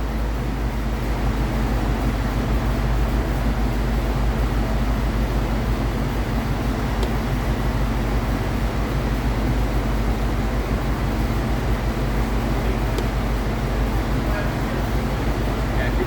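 A 1986 Ford Mustang with a swapped 302 engine runs on a dyno, holding a steady, loud, continuous roar with a deep rumble underneath and faint voices beneath it.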